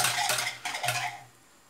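A spoon stirs warm milk in a pot to dissolve sugar for liquid yogurt, giving a few quick close scraping clinks against the metal before falling quiet.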